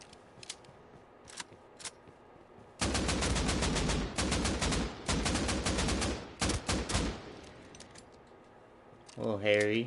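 Rapid bursts of automatic gunfire in a beach battle video game, loud and close, firing in several clustered volleys with short gaps, preceded by a few isolated shots.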